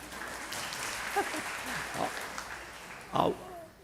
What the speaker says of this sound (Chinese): 我们为自己拍手一下。